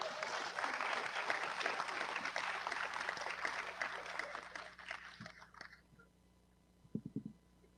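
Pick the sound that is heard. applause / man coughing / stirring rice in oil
applause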